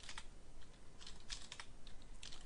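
Git commands tapped out on a computer keyboard: a steady patter of light key clicks with small clustered bursts, close and quiet, with no voices.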